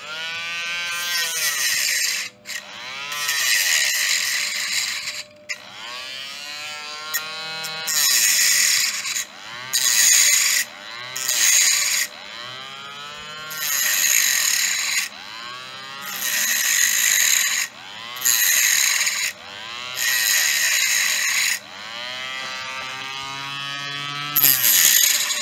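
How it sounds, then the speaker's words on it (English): A Dremel rotary tool cuts into a die-cast Hot Wheels Ford Mustang, a high whirring buzz that rises and falls in repeated bursts of a second or two, with brief pauses between passes, close and fairly loud. "I can't cut it with my nippers, so I'll go at it with my Dremel."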